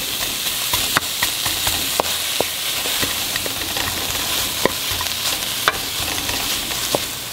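Onions for Kuwaiti majboos stir-frying in a dry pan with no oil, a steady close sizzle and hiss broken by sharp scraping clicks of the spoon against the pan.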